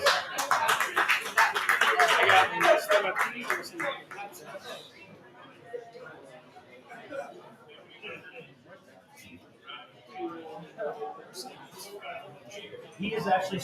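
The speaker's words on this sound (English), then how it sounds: "Round of applause." Audience clapping bursts out loudly for the first few seconds, then thins to scattered claps and taps while people talk over it.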